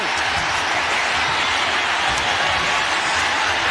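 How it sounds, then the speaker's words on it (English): A packed Ariake Arena crowd roars after a knockout in the Rodtang vs Takeru 2 fight, a loud, continuous wall of cheering that holds steady throughout. "Mitch, the crowd is on their feet for their hero."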